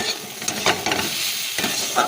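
Papaya slices frying in a pan make a close, steady sizzle with a few soft spatula scrapes and stirring clicks over two seconds, with no voices.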